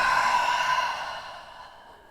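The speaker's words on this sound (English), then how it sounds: "Deep inhale through the nose and exhale out the mouth to let go" A single deep breath pushed out through the mouth, close and breathy, loud at first and trailing off softly over about two seconds, alone with no talking.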